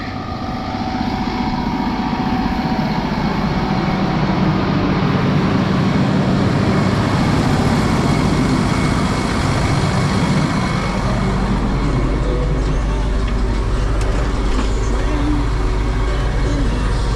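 A farm sprayer vehicle driving out to a field, its engine droning steadily and loud with rumbling cab and road noise throughout, a deeper low hum joining in the later part.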